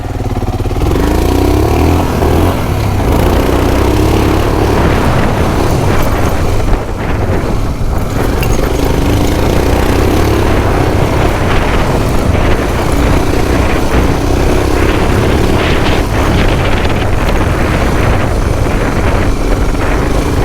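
A motorcycle rides steadily through sand on beginner-friendly off-road terrain, its engine droning loud and continuous with wind buffeting the microphone throughout.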